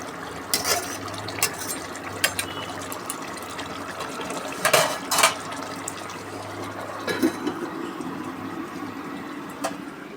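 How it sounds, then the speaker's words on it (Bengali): Hands washed under running water beside a home kitchen, with uneven splashing and pouring bursts over a faint steady hum. "হাত ধুয়ে নিই।"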